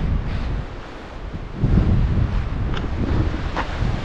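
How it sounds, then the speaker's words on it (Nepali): Strong wind buffets the microphone on a mountain road in Manang, Nepal, in a continuous low roar, gusting louder partway through, with no voices. "हावा चाहिँ अति नै छ"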